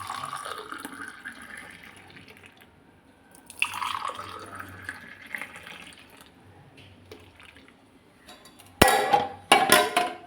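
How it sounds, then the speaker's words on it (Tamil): Strained masala tea pours into a cup with a soft, trickling liquid flow that fades. Sharper splashes and drips follow near the end, close and fairly quiet. "இதை கப்பில் மாற்றிடலாம்."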